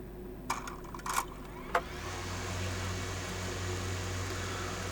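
DJI Lito X1 drone motors spin up after a few faint clicks, then settle into a steady, quiet whirring hum that continues evenly to the end.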